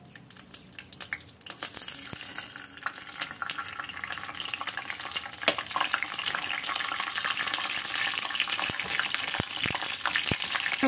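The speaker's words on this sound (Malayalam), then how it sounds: "ഒന്നര ടീസ്പൂൺ എണ്ണ ഒഴിക്കാം. എന്നിട്ട് നമുക്ക് ആദ്യം ഉലുവ ഇടാം കേട്ടോ. ഉലുവ പൊട്ടി വരുമ്പോൾ നമുക്ക് കടുക് ചേർക്കാം." Fenugreek seeds sizzle and crackle in about one and a half teaspoons of hot oil in a pan, faint at first and then building into a steady, close spluttering with sharp pops scattered throughout.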